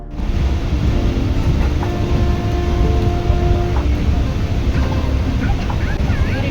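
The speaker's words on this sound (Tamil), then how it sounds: "அப்படியே வந்து ட்ரெயின் வந்து ரொம்பவே வேகமாக வந்து மூவ் ஆக ஆரம்பிச்சிது" A passenger train on the Trichy to Bangalore route picks up speed, heard as a loud, continuous low rumble and roar of wheels and carriage noise from on board, with faint tonal squeals and a voice talking over it.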